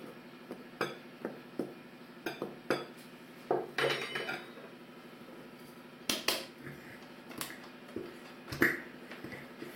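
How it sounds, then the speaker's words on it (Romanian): Cake batter with flour and a spoonful of baking powder stirred in a bowl, a spoon or whisk clinking against the sides in quick repeated taps and scrapes, close and clear with no talking. "O amestecăm."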